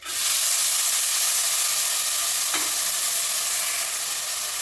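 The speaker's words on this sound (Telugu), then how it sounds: "స్పూన్ ఆయిల్ వేసుకొని కొంచెం వేయిస్తాను రొయ్యలు." Prawns fry in a spoonful of oil in a pan, a steady broadband sizzle hissing throughout at close range with a brief stir or clink midway, no voices.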